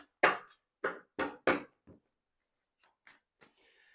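Tarot cards shuffled by hand in a few quick, crisp bursts, four louder riffles followed by softer, sparse taps and slides, close and clear with no talking.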